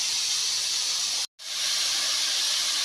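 Marinated potatoes and onions hit a hot pan with a loud, steady steam-like sizzle and hiss that drops out for a split second, then surges right back and keeps going.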